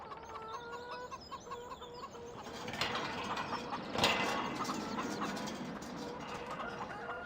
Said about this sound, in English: So I can hear some chickens somewhere.